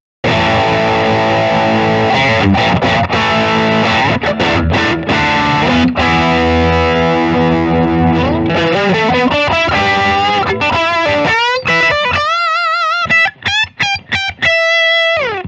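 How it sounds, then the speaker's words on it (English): Loud, distorted electric guitar, a 2021 Fender Made in Japan Limited F-Hole Telecaster on its bridge pickup, playing dense chords and riffs, ending with a run of sustained, ringing notes and brief gaps between phrases. "Now let's try some distortion."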